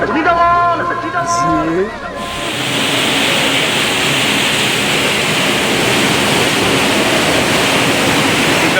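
Roaring waterfall inside Gucchupani Robbers Cave in Uttarakhand; a voice speaks briefly at the start, then a loud, steady, broadband rush of falling water fills the rest.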